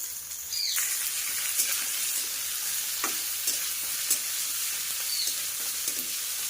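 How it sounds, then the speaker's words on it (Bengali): Chopped beetroot frying with onion in a pan gives a steady, close sizzle, broken by a few scraping stirs and spatula taps and faint bird calls in the background. "এই বিটটা একবার এইভাবে ভাজা করা তোমাদেরকে দেখায়।"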